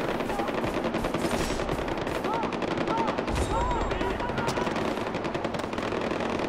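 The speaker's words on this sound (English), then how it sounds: "And there's more people shooting and shit." Video-game gunfire from Far Cry 4: dense, continuous bursts of automatic weapon fire with scattered shots, loud and sustained throughout, mixed with battle noise and occasional voices.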